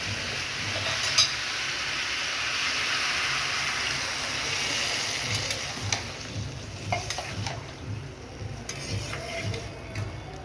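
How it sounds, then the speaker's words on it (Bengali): Water poured into a pan of sautéed Malabar spinach cooked with a fish head sets off a loud, steady sizzle and bubbling hiss that fades and crackles unevenly toward the end, with no talking. "এবার আমি জল দিয়ে দেবো।"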